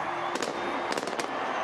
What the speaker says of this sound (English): There's going to be explosions and fireworks before the game gets underway as the teams run out.